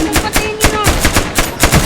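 Rapid bursts of automatic gunfire from a video game shooter, loud repeated shots in quick rhythmic volleys with no talking over them.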